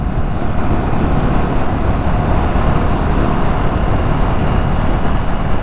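A motorcycle cruising in fourth gear gives a steady, dense engine drone mixed with heavy wind rush at the rider's position, loud and unbroken throughout.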